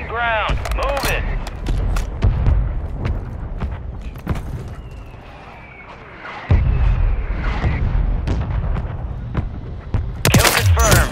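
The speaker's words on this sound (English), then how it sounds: "Mortar strike." Heavy mortar strike explosions boom through a military shooter game battle, deep low rumbling blasts spread across the scene with a sudden louder impact midway and sharp crackling bursts near the end, with radio-style voice chatter in between.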